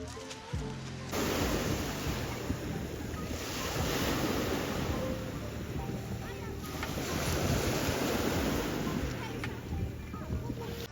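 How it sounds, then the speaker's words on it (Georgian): Sea surf at an uncrowded beach in Adjara, a continuous broad wash of waves breaking and rolling in, loud and close, with some wind buffeting the microphone. "ახლა უკვე გამოვდივართ პირველად ზღვაზე და შევართ ზღვაში"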